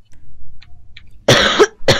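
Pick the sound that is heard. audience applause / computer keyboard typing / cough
cough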